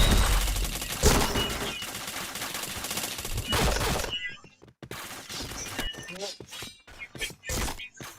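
A shooting video game fires in rapid, loud bursts of gunfire with sharp impacts and cracks, dense at first and then in scattered shots, while a person talks over it.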